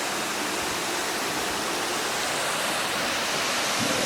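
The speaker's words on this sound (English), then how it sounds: "The camera can't pick up the waterfall from here, you can hear it" A waterfall in the woods at night rushes as a steady, dense broadband roar heard from a distance, unbroken and even throughout.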